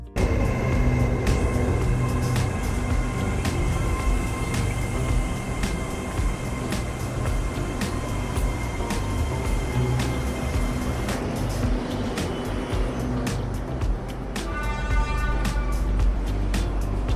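Steady rumble of a moving train interior in southern Thailand, with continuous low drone and rail noise, occasional clicks and a brief tonal chime near the end.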